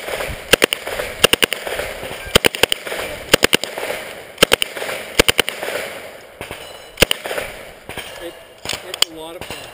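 Submachine gun fire on a state subgun competition stage, loud close bursts of rapid shots in quick clusters separated by brief pauses, with background crowd noise and some voices.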